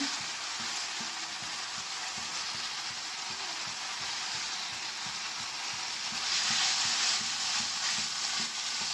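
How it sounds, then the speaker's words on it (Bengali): Deboned taki fish dropped into a spice paste fried with chilli, producing a steady broadband frying hiss that swells louder near the end, with faint low clatter beneath and no voices. "আমার মশলাটা কষানো হয়ে গেছে, এখন আমি কাটা বেছে রাখা মাছগুলো দিয়ে দেবো।"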